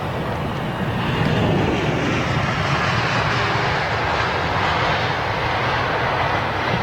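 Airliner landing at London Heathrow Airport, a loud continuous roar of jet engines and rushing air that holds steady throughout with a broad rumbling texture, no voices.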